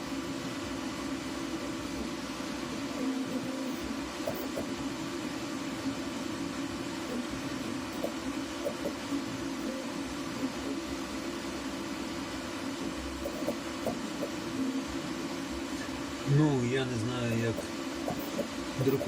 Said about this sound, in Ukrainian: І ось пішов сам друк.